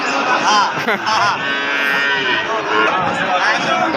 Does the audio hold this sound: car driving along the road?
no